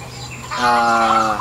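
A single short, throaty zebra dove call with a rolling, trilling coo, close and clear against a quiet background.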